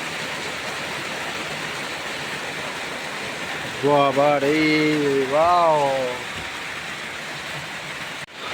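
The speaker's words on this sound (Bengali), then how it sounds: "এত জোরে বৃষ্টিটা চলে এসছে।" Heavy rain pours down steadily in the mountains on the road to Muktinath, Nepal, during a motorbike trip, a loud continuous wash of noise with a voice talking over it partway through.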